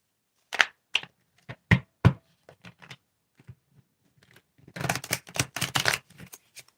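Cards being shuffled by hand, a few separate riffles and taps followed by a denser burst of fluttering snaps, close and fairly quiet with no voices.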